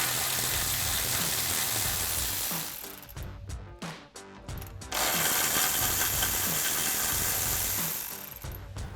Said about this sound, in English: we're going to grab our 12 mil socket and remove all of the bolts in place